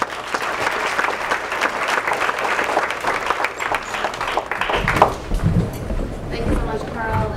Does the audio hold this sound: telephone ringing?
no